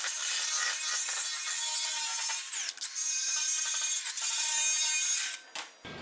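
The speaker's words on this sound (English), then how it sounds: "Just going to polish this a little bit." A power tool polishes a metal sedan fender being modified for a 1938 International pickup, a steady high whine running close and loud for about five seconds, then winding down with a brief restart at the end.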